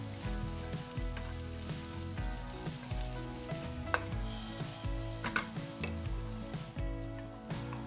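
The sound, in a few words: zucchini and onions frying in oil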